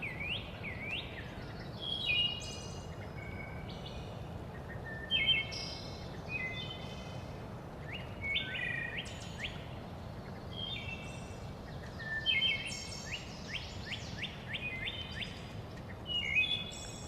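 Several birds sing and chirp outdoors in bursts of bright, repeated whistled phrases over a steady low background hiss, some calls close and others farther off, with no talking.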